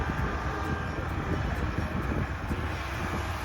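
Drone flying overhead on a property where a Kubota tractor is chewing up grass, a steady droning hum with a high whine that stays continuous and fairly loud throughout.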